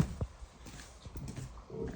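A mare shifts and stamps nearby in a barn, with a few soft hoof thuds and snorting sounds over a quiet background.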